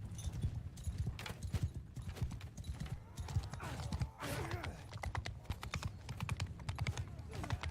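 Horses' hooves clip-clop steadily in Mount & Blade II: Bannerlord, a dense rhythm of many riders at close range, running without a break under game noise for the whole stretch.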